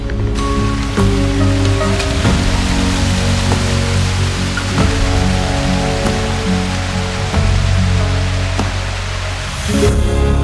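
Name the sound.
rain falling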